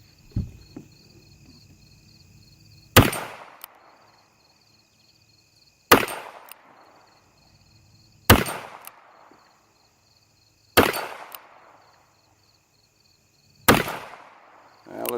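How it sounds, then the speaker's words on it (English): An old used Ruger New Model Single Six revolver fires five sharp, evenly spaced shots roughly two to three seconds apart, each ringing out with a short echo in otherwise quiet outdoor surroundings. "Now, if I've done it right and it's worked out, it should fire 5 times and click on the 6th shot."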